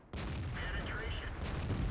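A Pershing tank gun fires in the World of Tanks video game: a sudden loud blast followed by a rolling boom that tails off, then a second burst swells toward the end.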